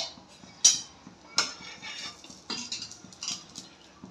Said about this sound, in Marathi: आपण झाकण उघडून बघूया।